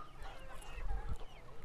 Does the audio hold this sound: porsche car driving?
no